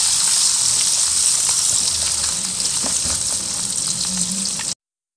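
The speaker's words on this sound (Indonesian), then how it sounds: "aku goreng tempe sampai dia benar-benar golden brown" Tempe deep-frying in hot oil until golden brown and crispy, a dense, steady crackling sizzle that stays loud and continuous with no voices, ending abruptly.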